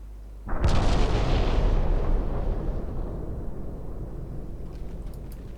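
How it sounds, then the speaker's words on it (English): A torpedo strikes a warship in the naval strategy game Ultimate Admiral Dreadnoughts, setting off a sudden, loud, booming explosion that rumbles on and slowly fades over several seconds. "There we go, that's one torpedo."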